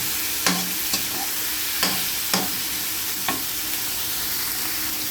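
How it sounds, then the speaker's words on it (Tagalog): Shrimp sautéing in a pan for ginisang opo, a Filipino bottle gourd dish: a steady close sizzle punctuated by several sharp scraping stir strokes at uneven intervals, with no voices. "Tapos, lagay na rin po natin yung hipon. Ayan, nilagay na rin po natin yung hipon. Gisa-gisa lang po natin."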